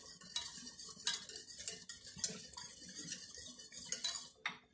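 Milk and cream are stirred in a pot over medium heat, a utensil scraping and clinking against the metal in irregular close taps and swishes.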